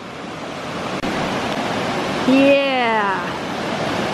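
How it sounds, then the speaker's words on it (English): Laughing Whitefish Falls, a 100-foot waterfall, gives a constant rushing roar close by, while a person briefly speaks and a short, sliding, howl-like call rises over the water noise. "This is always such an interesting waterfall."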